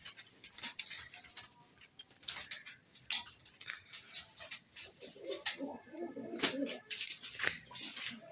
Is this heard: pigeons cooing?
yes